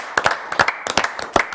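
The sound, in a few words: applause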